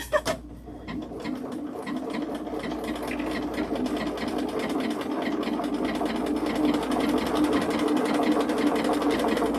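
Sewing machine starting with a clunk and then running steadily at speed, a close continuous mechanical whirr and rapid needle chatter that holds evenly to the end with no talk.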